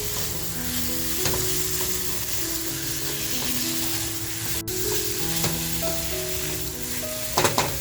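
Prawns sizzle loudly in a hot pan over a full gas flame, a steady crackling fry with occasional stirring clinks and a sharp scrape near the end.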